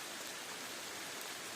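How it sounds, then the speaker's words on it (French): Fairly heavy rain falls steadily on a forest hiking trail near the source of the Corrèze, a dense, even hiss of drops without breaks or voices. "il pleut un peu fort"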